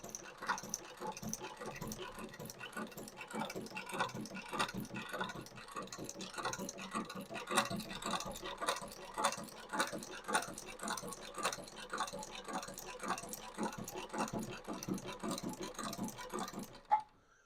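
A heavy duty shoe patcher sewing machine stitches material in a continuous rapid ticking rhythm, close and fairly quiet, running steadily for over fifteen seconds before stopping.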